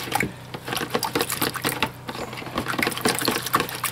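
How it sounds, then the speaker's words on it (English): Sprouts being rinsed with a small amount of water in a container, a quick run of close splashes, swishes and clicks with no talking. "I'm getting a good rinse and only using a little bit of water."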